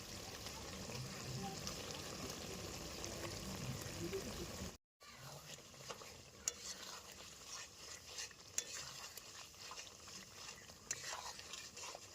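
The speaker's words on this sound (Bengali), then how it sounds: "এবার দিয়ে দেবো আমাদের ভেজে রাখা ডিম।" Fried eggs go into a pan of Afghani egg curry cooking in a village kitchen, with close sizzling and stirring scrapes, a brief break, then continued frying with occasional utensil clinks.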